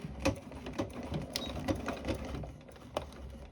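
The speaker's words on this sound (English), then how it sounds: "I'm just going to sew this last little bit" A sewing machine stitching the last section of a zipped pocket on a bag, running with a quiet rapid mechanical patter and a few sharper clicks and thumps at close range.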